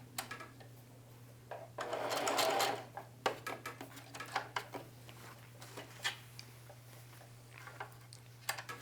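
A sewing machine stitches a jeans pocket, running in a dense fast burst and then in short, spaced runs and clicks over a low steady hum, close and fairly quiet with no talking.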